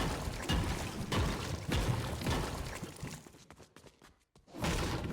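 An Art the Clown pickaxe in Fortnite strikes metal in a quick run of repeated hits, then the swings fade and pause briefly before one more loud impact near the end.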